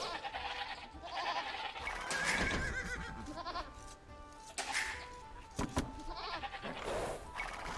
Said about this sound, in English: There's more goats.